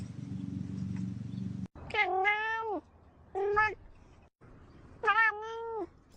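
Three drawn-out cat meows, close and clear, separated by short pauses over a low background hum.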